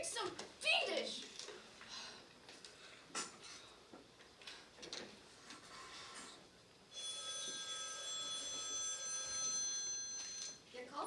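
A telephone rings in an old suspense radio drama, opening with rattling handling noises and faint voices, then settling into a steady, continuous bell tone that runs to the end.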